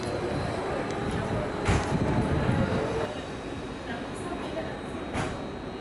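MAV train coaches roll into Budapest Keleti station with a steady rumble of wheels and faint squeals. Station noise hangs in the background and a voice speaks over it.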